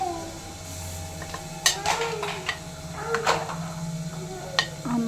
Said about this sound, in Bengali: তো এমনভাবে নাড়তে হবে যাতে এটা পুরোটা গলে যায়, পেঁয়াজ টমেটোটা।